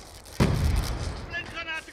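Grenade detonating in the shooter game Call of Duty: Black Ops 2 on the Slums map, a single sharp, close blast followed by a rumbling decay, with a voice shouting partly over it.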